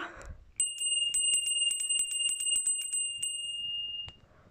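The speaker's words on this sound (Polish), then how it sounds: "Zaraz później jest dzwon Piotr." A small bell named Piotr rings near and loud in a steady run of rapid bright strikes with a lingering tone, preceded by a brief handling rustle and ending with a final stroke.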